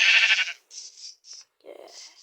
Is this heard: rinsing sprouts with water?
no